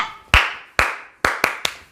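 One person claps their hands five times during a stretching exercise class: three sharp, evenly spaced claps followed by two quicker ones, each crisp and close with a short ring-off and no talk between.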